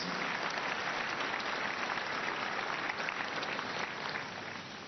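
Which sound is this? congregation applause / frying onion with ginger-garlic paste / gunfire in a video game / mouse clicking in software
congregation applause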